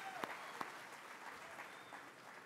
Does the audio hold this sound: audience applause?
yes